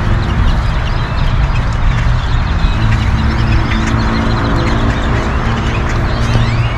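A large flock of birds calls continuously across a parking lot, with a dense, steady chorus of chirps and squawks close by and spread all around, over a constant background rumble.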